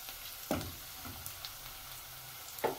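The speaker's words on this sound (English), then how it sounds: "So I'm going to add in my garlic." Garlic and coriander stems frying in a pan for a black bean dish, giving a soft steady sizzle with a few sharper stir clanks near the start and end.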